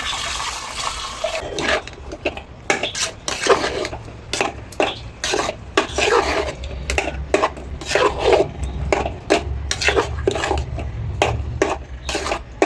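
Coconut curry with taro and tapioca gets stirred in a pot, a spoon scraping and clattering against the metal in quick, irregular strokes with wet sloshing between them, close and fairly loud throughout.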